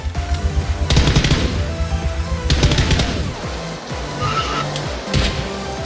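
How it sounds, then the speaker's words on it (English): Automatic gunfire in the PUBG video game comes in three rapid bursts, loud and close, separated by brief pauses filled with lower game sounds. "I'm just shooting random"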